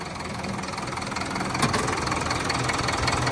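A modified Sonalika 60 DI tractor diesel engine idles close by with a steady, rough knocking rumble, holding an even note with a slight rise partway through and no talking.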